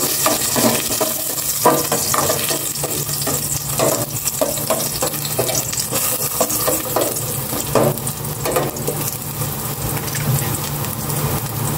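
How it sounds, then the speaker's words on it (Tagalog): Garlic sautés in hot cooking oil with a steady close sizzle, punctuated by repeated scraping clicks of stirring. "maglagay na ako ng mantika. Igisa ko na itong bawang."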